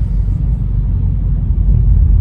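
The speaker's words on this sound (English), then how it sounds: "LA traffic." Los Angeles road traffic makes a continuous low rumble of passing cars, heavy and even throughout with no voices.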